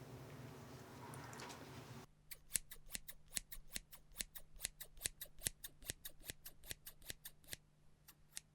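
Scissors trimming hair, a long run of crisp, evenly spaced close snips, faint and intimate, following a few seconds of soft rustling.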